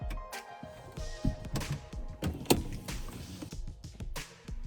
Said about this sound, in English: these little arms right there are supposed to hand you your seatbelt, but half the time they don't work.